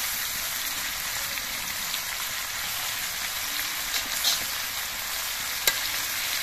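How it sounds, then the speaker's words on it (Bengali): Malabar spinach stirred into hot oil and vegetables in a small wok, giving a steady, close sizzle and frying hiss with faint scraping stirs and a sharp clink near the end. "এবার এর মধ্যে আমি পুঁই শাকগুলো দিয়ে দিচ্ছি।"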